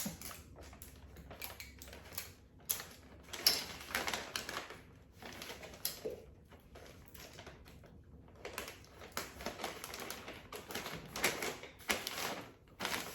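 Adhesive tape is pulled and pressed onto rustic paper wrapping around a live plant gift, making bursts of crackly ripping and rustling close by, separated by brief quiet pauses.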